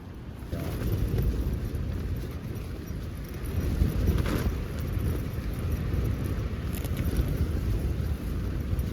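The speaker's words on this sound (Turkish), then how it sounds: "Bayağı rüzgar yanlardan sağdan soldan vuruyor" Strong, steady wind roars and buffets a tent at a campsite in Tokalı Canyon, with gusts striking from the sides and flapping fabric throughout, loud and close with no voices.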